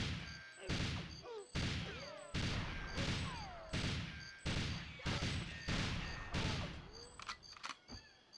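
Rapid gunfire in GoldenEye 007 on Nintendo Switch, a fast run of about nine sharp, loud shots with ringing tails and metallic pings, ending in scattered hits.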